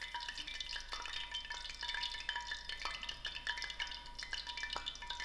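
Green chilies frying in hot oil for vada pav give a faint, steady crackling sizzle with scattered small pops, heard close and alone.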